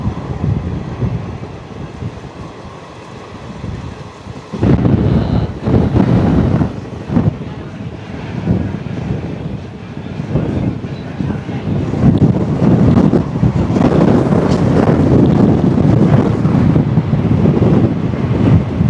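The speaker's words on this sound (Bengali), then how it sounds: "এখনই এত হাওয়া হচ্ছে" Strong sea wind on Rameswaram island near the Pamban Bridge batters the microphone with loud, gusty roaring that swells midway and keeps pounding close by, while a person speaks briefly underneath.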